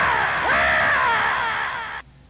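A voice imitates the shriek of the giant flying monster Rodan: one loud, sustained screeching cry with a rising then falling pitch, close up and alone, cutting off abruptly near the end.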